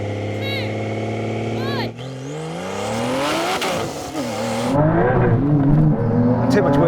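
A Porsche GT2 RS and a modified 911 Carrera launch side by side in a rolling-start half-mile drag race, engines rising in pitch through rapid gear changes with a burst of wheel spin, loud and close, over a voice talking.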